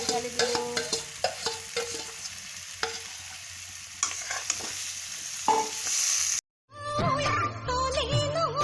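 Boiled potato and carrot pieces fry in a wok, crackling and sizzling as they are stirred with repeated scraping knocks, the frying steady throughout before cutting off abruptly into other sounds.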